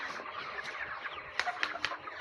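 Chickens at a poultry market cluck faintly in a few short, scattered bursts over a quiet background.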